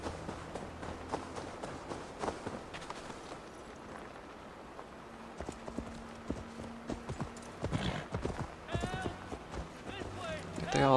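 Horse galloping in the video game Assassin's Creed Valhalla, a steady rapid clip-clop of hooves running throughout, mixed with game sounds and occasional talk over it.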